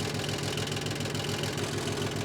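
A John Deere 900HC tractor engine runs with the throttle raised a little, giving a steady, close mechanical drone with a rhythmic knocking pulse throughout, alone with no talk.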